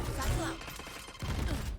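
Raze's grenade bursting in Valorant on the Fracture map: a dense, rapid scatter of cracks and pops rolls out over the short stretch, loud and busy under game noise.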